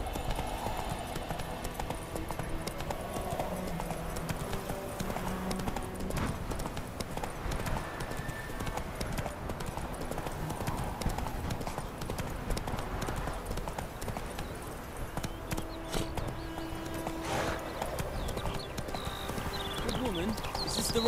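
Roach the horse trotting in The Witcher 3, a steady rhythmic clip-clop of hooves throughout, with game speech and background sound mixed in.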